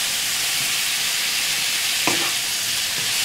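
Strips of marinated beef fillet sizzle steadily in a frying pan, a loud, continuous hiss close up, with a short clatter of stirring near the end.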